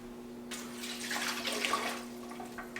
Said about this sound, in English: I'm going to go ahead and put my 3 quarts of water in here.